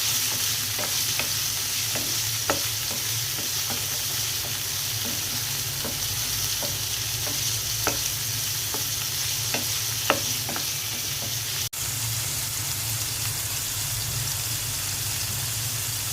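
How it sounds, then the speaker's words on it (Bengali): Onion and shrimp fry together in a pan with a steady, close sizzle and crackle, broken by regular light stirring scrapes and a low background hum throughout. "পেঁয়াজ আর চিংড়ি মাছ একসাথে ভেজে নেব।"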